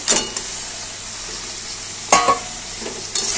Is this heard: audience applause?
no